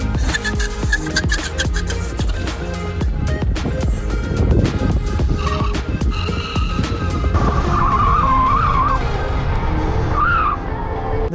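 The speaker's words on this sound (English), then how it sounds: "Its tires spin again and again." Tires of a Gotway Begode K4 electric wheel spin and skid again and again. The sound is a loud, sustained rush of squeal and scrub that runs through the whole stretch, with no talking.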